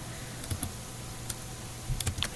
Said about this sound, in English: I can press Control plus on my keyboard